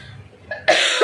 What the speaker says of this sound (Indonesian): Mohon maaf karena batuk.